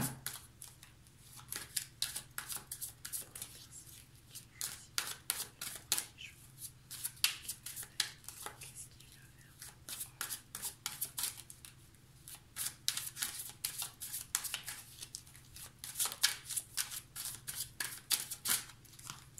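A tarot deck and a blue oracle deck are shuffled and drawn close up, with rapid papery riffles and card slaps in repeated bursts separated by short quiet gaps, no talking.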